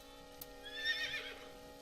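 A horse whinnies in the video game AI: The Somnium Files, a single moderately loud neigh rising and fading over about a second against a steady background hum.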